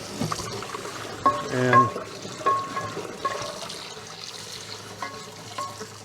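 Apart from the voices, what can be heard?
rinsing salt out of a cast iron skillet with water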